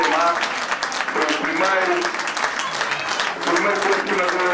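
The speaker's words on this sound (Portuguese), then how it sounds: "Uma salva de palmas para ele." A crowd at a football match breaks into sustained applause, dense clapping that swells and fades slightly, with voices mixed in underneath.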